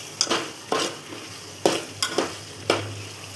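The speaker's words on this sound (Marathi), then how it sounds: "हे सगळे मसाले आपण परतवून घ्यायचे आणि चांगलं तेल सुटस तर मसाला भाजून घ्यायचा आहे." Ground spices, coriander powder and black pepper powder, are stirred and roasted in oil for a spicy Maharashtrian mutton curry. A steady sizzle runs under five or six sharp scrapes of a spoon against the pan, with no talking.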